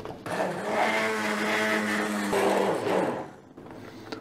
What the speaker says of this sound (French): Alors on prend un mixeur plongeant.